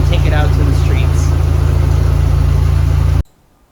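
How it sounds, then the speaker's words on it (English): A supercharged Toyota 22RE engine running on Microsquirt tuning idles steadily, loud and close with a deep, even drone, then cuts off abruptly just before the end. "So let's let it idle here and then we can take it out to the streets"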